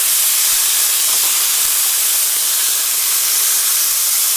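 Pork chops and apples sizzle in a hot pan while it is deglazed, a steady, loud hiss that fills the whole stretch with a few faint ticks and pops.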